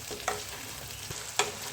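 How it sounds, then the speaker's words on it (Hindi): Potatoes frying in a pan with spices, onion and ginger-garlic paste, giving a steady close sizzle broken by a couple of sharp scrapes of stirring. "अब आलूओं को मैं इन मसालों, प्याज और अदरक लहसुन के पेस्ट के साथ इसी तरीके से कुछ देर भूनूँगी"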